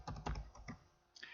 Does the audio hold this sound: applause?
no